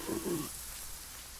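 Steady rain hiss in the horror video game Rake, a soft broadband wash throughout, with a brief muffled lower sound at the very start.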